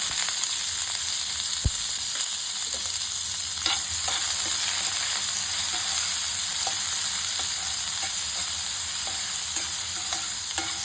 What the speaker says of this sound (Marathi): मी आता ह्या पॅनमध्ये तेल ओतते तेल बघा आपलं तापलेलं आहे चांगलं त्यात आता बारीक चिरलेला कांदा आपण घालूया